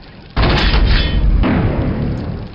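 Rocket launcher explosion in Quake: a sudden loud, close boom with heavy low rumble that hits hard, swells again after a second and slowly decays, with no talking.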